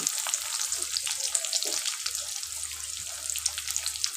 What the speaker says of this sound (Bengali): এবার জিরে সর্ষে দেওয়ার পরে আমি পেঁয়াজটা তুলে দিই